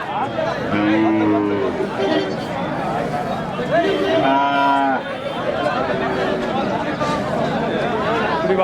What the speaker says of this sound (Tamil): மாடு